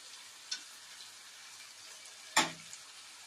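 Soya chilli sautés in a pan with Schezwan chutney and red chili sauce, a faint steady sizzle broken by one sharp clack of a spoon and a lighter tap earlier.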